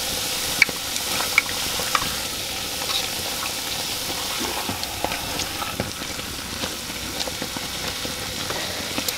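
Ajook frying in hot cooking oil for a village breakfast in Gilgit-Baltistan, a steady close sizzle with faint scattered pops and crackles running the whole time, no voices.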